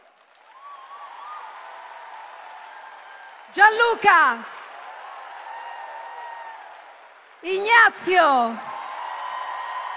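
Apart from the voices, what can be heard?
audience applause in arena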